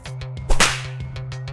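One sharp, crisp slap on a cheek cracks out loudly and close, over a steady rhythmic music bed.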